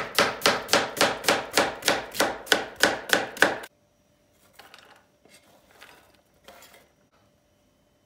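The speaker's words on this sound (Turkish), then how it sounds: "Soğanlarımızı çok ince bir şekilde doğruyoruz." Rapid, evenly spaced knife strikes finely chopping onions on a cutting board, about a dozen sharp chops in quick rhythm, then a few faint scattered clinks and quiet kitchen sounds.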